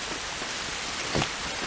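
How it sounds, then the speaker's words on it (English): Steady rain in the video game The Last of Us, an even broadband hiss of drops on surfaces with a brief, slightly louder burst of patter midway; no voices. "This rain ain't gonna do us any good."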